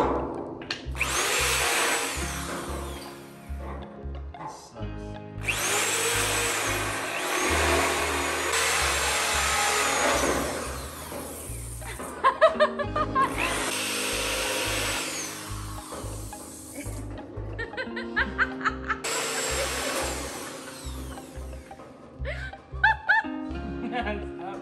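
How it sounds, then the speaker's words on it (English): A power drill whines in long bursts, separated by short pauses, drilling out spot welds on a VW Bus front floor during restoration, with clanks and knocks of metalwork and occasional voices in between. "we gotta drill out the spot welds"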